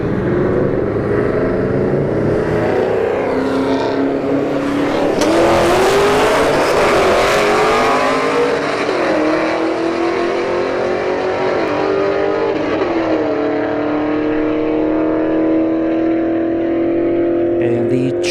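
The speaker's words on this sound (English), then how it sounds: "And the Charger Hellcat goes 121 miles an hour." A Dodge Charger Hellcat makes a drag strip run at Bradenton Motorsports Park, its loud engine climbing steadily through gear changes for a sustained roar, with an announcer talking over it.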